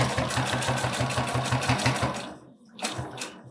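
A sewing machine stitches a removable fabric belt in a loud, rapid rhythmic chatter, pausing briefly near the end before a couple more short bursts of stitching.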